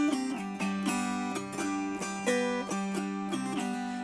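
Strummed autoharp chords ring out in a bouncing blues rhythm, bright and resonant, switching back and forth between the I and IV7 chords with no voices.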